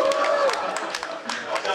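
A short burst of crowd cheering and scattered clapping from an audience at a startup competition show, steady and moderately loud throughout.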